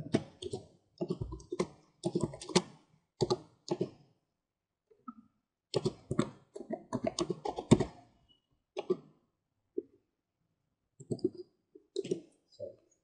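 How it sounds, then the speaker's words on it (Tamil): Keys on a computer keyboard are typed in short bursts of rapid clicks with brief pauses between them, close up and quiet, no talking. "நான் இப்போ ஏதோ டைப் பண்ணியிருக்கேன்"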